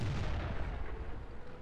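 Tank cannon fire in the World of Tanks video game, a dense booming blast with rumbling low-end decay, loud and sustained over the short span with no voices.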